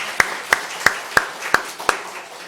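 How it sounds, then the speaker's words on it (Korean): Church congregation clapping together in praise during an Easter Sunday service: six sharp, evenly spaced claps in steady unison rhythm, about three per second, over a quiet room. "먼저 하나님 앞에 감사의 영광의 박수 한번 올려드릴까요?"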